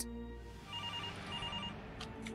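A telephone rings quietly, a faint repeating electronic ring with steady tones under a low background hum.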